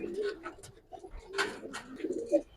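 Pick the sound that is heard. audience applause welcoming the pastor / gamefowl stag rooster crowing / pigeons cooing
pigeons cooing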